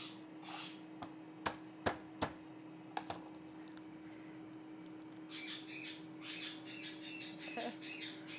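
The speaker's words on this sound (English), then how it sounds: "I'm sure you can hear the birds today. They are very chatty." Pet birds squawk and chatter indoors beside a kitchen during cooking, with several sharp, loud calls early on, then a busy stretch of quieter, rapid chirping over a steady low hum.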